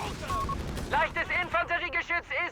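Artillery fire in the strategy game Company of Heroes 3 during a DAK versus USF match, a rapid string of booming shell impacts in quick succession, while a commentator talks over the barrage.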